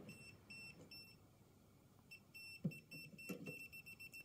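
A handheld voltage detector in its sensitive low mode beeps in short, faint, high electronic chirps. The beeps repeat in a quick irregular series close by, against a quiet room with light handling noise.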